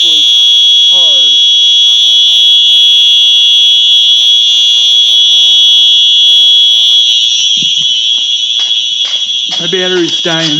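Simplex 4903 fire alarm horn blaring during a test, a loud continuous piercing tone held steady throughout, very close, with a voice talking faintly underneath near the end.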